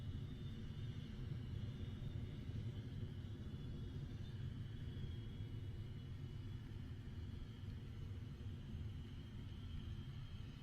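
A Rocket Lab Electron rocket's first-stage engine roars during ascent through max Q, a continuous deep rumble that stays steady and unbroken throughout, with no voices.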